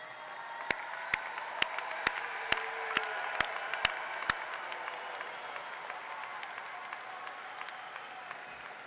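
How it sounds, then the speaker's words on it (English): Graduates at a summer commencement applaud their family and friends, a broad, moderately distant wash of clapping with several sharp close claps early on, then a steady fading patter. "give your family and friends a big round of applause"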